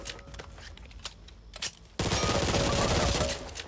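An automatic Glock pistol in the video game Back 4 Blood fires on a shooting range: a few scattered single shots, then a sudden loud sustained burst of rapid automatic fire.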